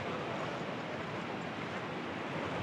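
Light, gentle sea waves wash in at Tajpur beach, heard as a soft, steady surf hiss with some wind noise, faint and even throughout.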